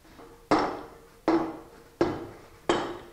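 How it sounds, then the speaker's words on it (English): A hammer lightly taps a bearing outer race into alignment in a hammer mill, four crisp metallic knocks spaced evenly, each ringing briefly before fading. "Tapping lightly in order to get the outer race aligned."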